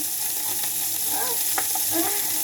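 Fish sizzles in a hot frying pan, a loud, continuous crackle of spitting oil with small bubbling pops and brief scraping, no voices over it.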